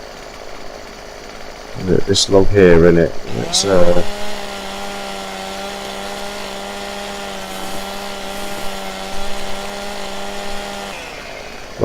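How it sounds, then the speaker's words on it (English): A chainsaw runs steadily on logs in Farming Simulator 17, holding an even droning whine for several seconds after someone speaks briefly. "Get the chainsaw going."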